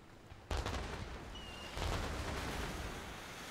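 Enemy pirate ships firing cannons in The Inner Sea video game, two distant booming volleys over a continuous rumbling wash of sea and battle noise, with no voices.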